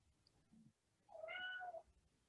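A single clear, fairly loud meow from a nearby cat indoors, a short wavering cry standing alone in a quiet room.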